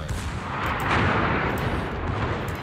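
The Bismarck battleship's secondary guns fire in World of Warships, a loud heavy boom rolling into a deep rumble that fills the short moment, with no voices.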